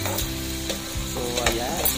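Macaroni chicharon frying in hot oil, a dense steady sizzle close by with a few light stirring clicks.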